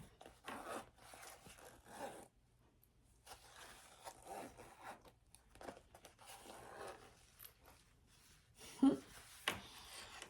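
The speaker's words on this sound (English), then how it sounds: "let's zip it up first to make sure how we did, if it zips good" A zipper is run along a freshly sewn fabric pouch, giving several short raspy scrapes and rubs spread through a quiet stretch, with a sharper zip near the end.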